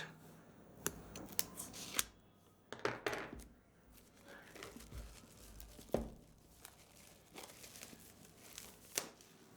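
Sealed pack of a Walton Xanon X90 phone box being peeled open during an unboxing, with sharp crinkles, tearing and tapping handling sounds in irregular bursts, fairly faint and close, no talk.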